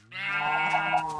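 A single Minecraft sheep bleat, a sustained wavering baa with a clear nasal tone, rising quickly and holding steady for about a second, loud and close with no talk.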